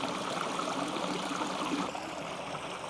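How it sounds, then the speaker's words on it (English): Steady, broad rushing of water falling over a wide, low drop in an aquarium stream, like a small waterfall, continuous and fairly close with no pauses. "Gives you that deep, really nice, deep waterfall sound."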